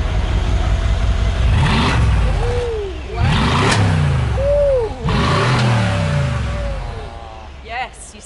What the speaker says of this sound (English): Now we're gonna activate the Brabus exhaust.